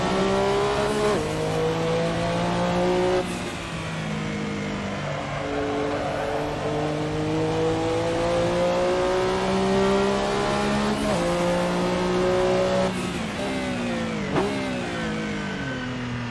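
Simulated Porsche 962 C Short Tail racing car at Barcelona GP in Assetto Corsa, its engine droning steadily on throttle with rising and falling pitch through gear changes, plus occasional brief tyre squeals, loud and continuous without talk.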